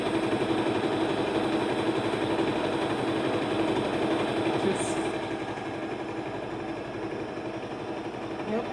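A Brother LX3817 sewing machine stitches with a steady rapid whir and buzz, close and continuous, easing slightly later on.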